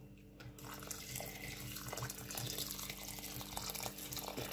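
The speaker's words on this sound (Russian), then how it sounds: "И заливаем кипяченой водой." Boiled water poured from a kettle over rice for family pilaf, a steady splashing trickle that runs close and continuously after a brief quiet start.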